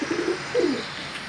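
A Posta pigeon, black pied, coos on a balcony while displaying, giving two soft rolling coos close by with no talk.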